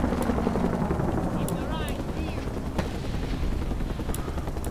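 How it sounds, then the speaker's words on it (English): Helicopter circling overhead in the Mercenaries 2 video game, a steady loud rotor drone filling the whole clip with faint chirps and brief sharp bursts over it, while a voice speaks intermittently. "Helicopter is just twirling around above me."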